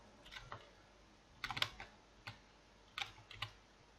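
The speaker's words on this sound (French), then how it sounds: "Je sais pas si vous entendez fortement mon clavier ou pas." Quiet computer keyboard typing in short bursts of several keystrokes, separated by pauses, close by with no voices.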